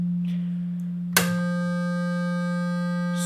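A steady tone with a click partway through, after which it turns buzzy and harsh, like a square wave, holding the same pitch.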